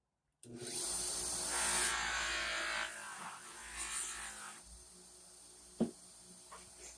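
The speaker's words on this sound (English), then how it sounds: "Not even sewn, just a loose floppy wheel here and something called White Rouge." A rusty, bent Stilson pipe wrench is polished against a loose, unsewn, floppy buffing wheel charged with white rouge, giving a steady whirring rub that fades and ends with a single sharp knock.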